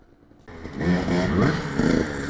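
Motorcycle engine revving hard on the throttle at jump practice, a loud sustained roar rising in pitch after a quiet start and holding steady to the end.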